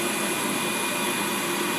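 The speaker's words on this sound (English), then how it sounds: "Have you got enough vacuum? Is it pulling bees?" Steady, loud whine of a vacuum used to suck bees out of a hive during a beehive removal, running continuously without change.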